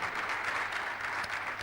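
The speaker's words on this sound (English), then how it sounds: "I think you deserve another round of applause for that resounding presentation." Audience applause at the Alaghodaro 2020 Edo Summit after a keynote, a continuous, even wash of clapping heard from a distance in a large hall.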